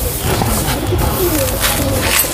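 Hungry pigeons coo softly and repeatedly, low and steady, close by over a constant background hum.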